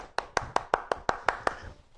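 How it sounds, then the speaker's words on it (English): A small group claps their hands in thanks for a guest named Claire, eight sharp evenly spaced claps that land close and clear, then stop. "Claps to Claire."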